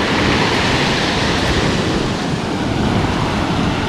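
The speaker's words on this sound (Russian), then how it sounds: "начинаются хорошие красивые волны" Sea waves break on the shore at the central seafront of Lazarevskoye on the Black Sea, a loud, continuous roar of surf with wind noise and no voices.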